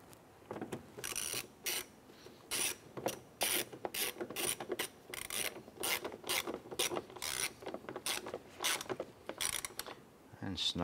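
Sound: screw being tightened while installing car mirror

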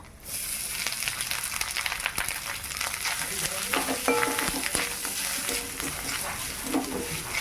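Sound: grated coconut stirred and frying in a pan

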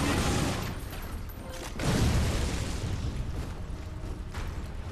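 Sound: gunshots in Lara Croft video game

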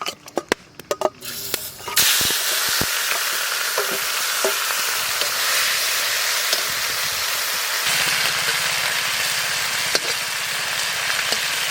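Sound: frying fish in mustard oil

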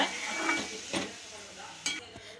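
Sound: radish being stirred into sesame oil in a pan

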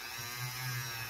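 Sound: buffing wheel polishing a CZ Scorpion Evo 3 bolt part

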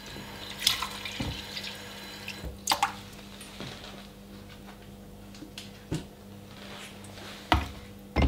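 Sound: Hungarian Haidu whetstones being soaked in water

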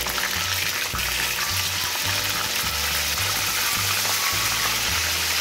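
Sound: meat frying in hot oil for chicken karahi

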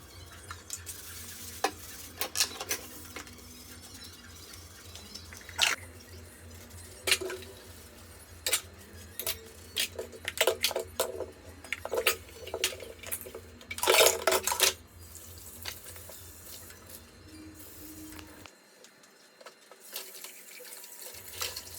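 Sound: cleaning the kitchen, washing dishes

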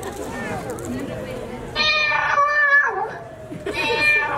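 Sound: puppeteer imitating a cat's meow

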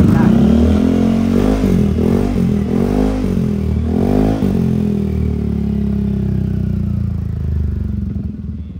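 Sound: scooter engine and exhaust revving

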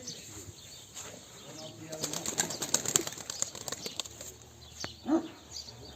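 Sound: pigeons flapping wings

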